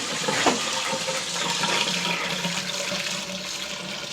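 Water from a water softener test runs through a funnel into a P-trap and drain, a steady rushing, gurgling flow that continues throughout.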